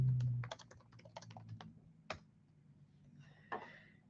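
Keys tapping on a computer keyboard as a search for a PC video game is typed, a quick burst of close, crisp clicks in the first two seconds, then a few scattered taps with soft room noise and brief rustling.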